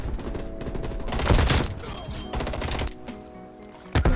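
FFAR rifle bursts ring out in the video game Black Ops Cold War, rapid close shots in clusters with short gaps between them and a sharp final pair at the end.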